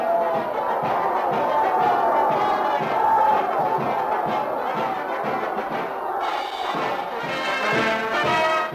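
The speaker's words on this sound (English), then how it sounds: "they were met with a cheer from a stand full of fans" A stadium crowd of football fans cheers in a stand, a dense, continuous roar of many voices swelling and holding steady, with shouts rising out of the mass at a distance.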